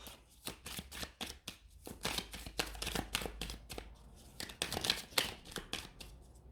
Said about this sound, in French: Je vais remettre des cartes.